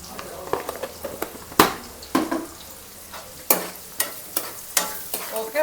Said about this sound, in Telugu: ఇప్పుడు ఉల్లిపాయలు వేగుతున్నాయి కదా కొంచెం కరివేపాకు కూడా వేస్తాను నేను